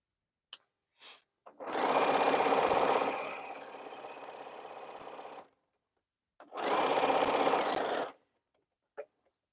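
A sewing machine stitches a T-shirt quilt in two close, steady runs of rapid whirring, a longer one that softens midway and a shorter one after a pause, with faint clicks between.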